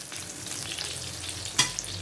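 Valai (ribbonfish) fry sizzling steadily in a pan, a continuous close crackle with a brief clatter near the end, no talk.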